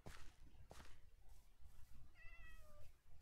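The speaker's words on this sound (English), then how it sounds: "Wait, there's a cat." A cat meows in the Minecraft video game, a clear rising-and-falling call near the end, with rumbling background noise and soft thumps around it.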